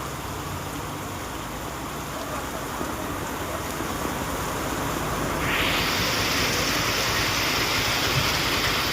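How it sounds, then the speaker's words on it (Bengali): Rain pours steadily outdoors in Shyampur during a downpour, a dense continuous hiss that swells louder partway through, with no talking. "আর বৃষ্টিটা দেখে নাও, শুধু বৃষ্টিটা কিভাবে বৃষ্টি হচ্ছে।"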